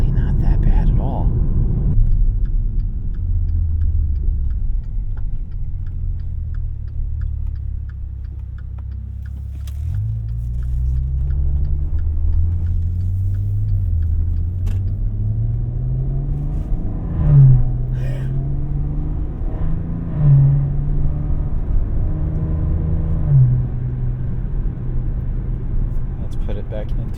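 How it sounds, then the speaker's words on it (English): Interior road noise from a 2015 Maserati Ghibli S Q4 twin turbo on a highway: a steady low rumble with the engine note rising and falling through gear changes, while someone talks throughout. "As far as road noise in here, it actually isn't too bad at all."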